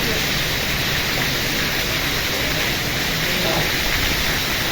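Heavy rain pours down during a summer storm with wind, a dense, loud, unbroken roar of falling water that lasts throughout.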